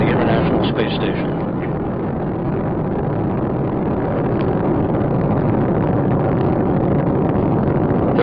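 Space Shuttle Discovery's three liquid-fuel main engines roar during the STS-124 launch, a dense, continuous rumble heard from a distance, with a commentator's voice running over it.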